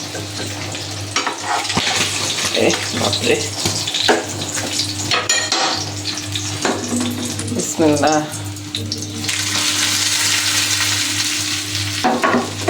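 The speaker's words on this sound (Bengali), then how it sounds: "পাবদা মাছ ভাজা করা মানে অনেক টাফ ব্যাপার" Pabda fish fries in oil in a pan, with loud, continuous crackling sizzle and sputtering, occasional utensil clinks, and brief spoken exclamations from a person nearby.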